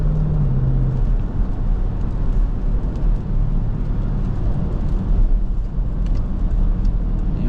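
A 2023 Dodge Durango SRT 392 on a drive, heard from inside as a steady, fairly loud low engine and road drone that holds even throughout, with no talking.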